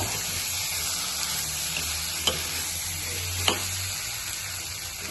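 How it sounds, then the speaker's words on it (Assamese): Chicken fries in a pan while being stirred, a steady close sizzle running throughout, broken by two sharp scrapes of the utensil against the pan. "এনেকৈ লৰাই দিম।"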